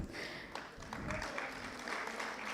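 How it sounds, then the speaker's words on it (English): Audience applause fills a hall at a 2023 national conference on responsible business conduct, a steady wash of clapping at moderate volume throughout. "I would request for a big round of applause for Ms. Cynthia"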